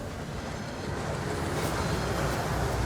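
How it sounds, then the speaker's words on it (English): A rushing waterfall at Gringotts in a Harry Potter game, a dense, steady roar that swells slightly louder as it goes on, with no voices over it. "That waterfall washes away all enchantments."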